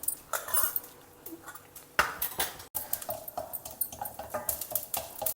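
Mustard seeds and urad dal frying in two teaspoons of hot oil, with a metal spoon scraping and clinking against the pan in irregular bursts of stirring and a soft sizzle underneath.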